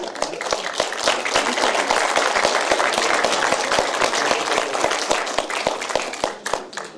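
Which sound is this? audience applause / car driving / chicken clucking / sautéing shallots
audience applause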